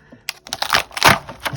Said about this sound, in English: So I'm going to peel them off